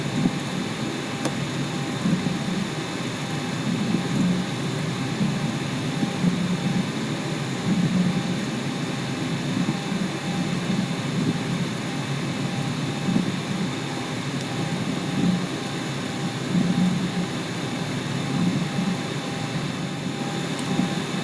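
Steady whine and low rumble of Boeing 737-700 jet engines at taxi in the X-Plane 11 flight simulator, a continuous, even drone with no talk over it.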